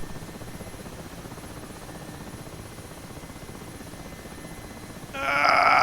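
Mi-8 helicopter in DCS World, a continuous rotor and engine drone at moderate level, joined near the end by a sudden loud bleating warning tone.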